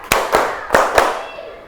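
A school class clapping in a rhythm pattern, four sharp group claps in an uneven sequence, loud and close, ringing out in a room.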